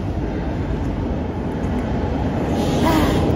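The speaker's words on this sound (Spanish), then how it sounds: "Para tomar el tren que nos lleve a Suiza." A train travelling toward Switzerland through the Swiss Alps, with a steady low rumble of the carriage and wheels on the rails heard from inside, continuous and fairly loud.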